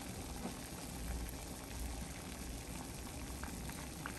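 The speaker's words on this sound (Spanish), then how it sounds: "Como pueden ver, tengo 6 tazas de agua que ya están hirviendo." Six cups of water boil in a pot with pineapple peels, a steady, quiet bubbling and hiss with scattered small pops throughout.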